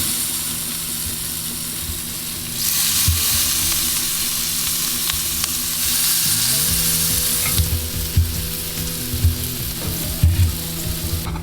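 Seafood sizzles and fries steadily in cooking oil on a Kamado grill at a backyard barbecue, a loud continuous crackle that swells partway through, with scraping stir sounds near the end.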